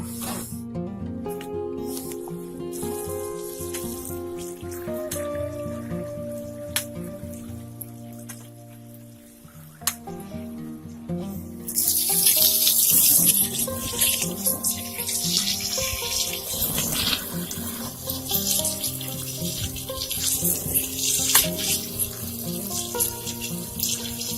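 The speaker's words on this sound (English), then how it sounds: "I'll just use the hose and we'll fill it up." Water from a hose pours into a portable twin tub washing machine, a steady splashing stream that grows brighter and louder partway through as the tub fills, with background music underneath.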